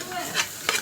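Lentils sautéing with garlic, cumin, coriander and black pepper for Egyptian koshari give a soft sizzle with a couple of quick stirring scrapes, close and brief.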